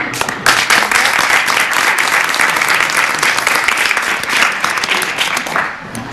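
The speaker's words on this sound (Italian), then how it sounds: "Genitori, un po' di applausi." Parents applauding in a theatre in Corigliano Calabro before a singer performs, a loud sustained wave of clapping from a full audience that holds steady and eases off slightly at the close.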